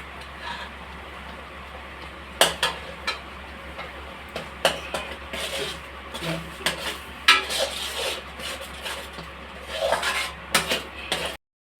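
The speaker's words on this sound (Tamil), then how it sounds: "அந்த மசாலா கொஞ்சம் பச்சை வாசனை போகிற வரைக்கும் கொஞ்சம் நல்லா வதக்கி எடுத்துக்கலாங்க." Masala for a fish curry being sautéed and stirred in a pan, with scattered clinks and scrapes of a utensil against the metal over a low steady background hum, fairly close and with no talking.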